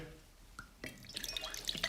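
Distilled water pours and splashes into a container, close but faint, building from scattered drips into a short trickling stream that ends in bright glassy plinks.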